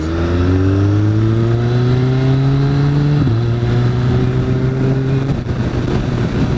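A BMW K1300S motorcycle engine is heard while riding, a loud close tone that climbs steadily in pitch, drops briefly at a gear change, then rises again before easing off.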